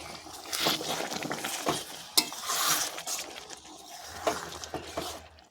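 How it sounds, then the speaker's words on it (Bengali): Banana flower curry with moong dal and prawns being stirred in a pan makes a soft, continuous sizzle with repeated scraping strokes and light utensil clinks, fairly quiet and close. "আবারও একটু নাড়াচাড়া করে দেবো।"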